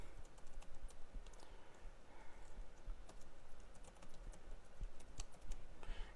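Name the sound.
typing on a computer keyboard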